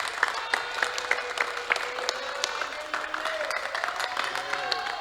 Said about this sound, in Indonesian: Sebelum ada pertanyaan, tepuk tangan dulu.